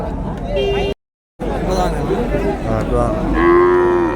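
Cattle and bulls lowing at a cattle market in Vaniyambadi, India, several moos rising over constant crowd chatter and background hubbub, with a brief gap of silence early on.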